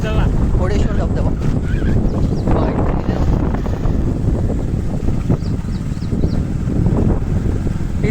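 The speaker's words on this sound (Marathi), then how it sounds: "घोडेश्वर धबधबा." Ghodeshwar waterfall, a steady broadband rush of falling water filling the whole clip, loud and continuous, with heavy wind buffeting and faint talk underneath.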